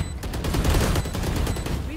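Rapid automatic gunfire in the shooter game Valorant rattles loud and close in a continuous burst, with a voice talking over it.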